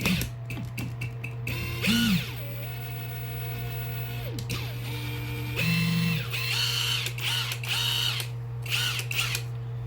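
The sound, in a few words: Hercules cordless impact driver running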